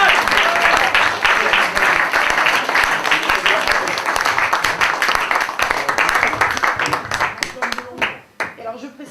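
Audience at the Joutes Poétiques Granvillaises poetry contest in Granville clapping in a loud, dense burst of applause that carries on steadily, then thins and breaks into scattered claps.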